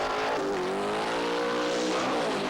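A Superstock drag racing car with a 427 engine roars loudly in a steady, close, sustained howl at a 1970 drag strip event, the pitch rising and shifting as it runs.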